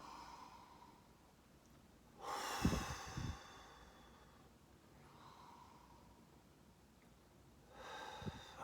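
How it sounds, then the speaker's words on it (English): Deep breathing exercise: a loud, breathy exhale with a snort-like rush near the start, then quieter inhales and another strong exhale at the end, close and alone without talk. "So 3 deep inhales and loud exhales that I can hear"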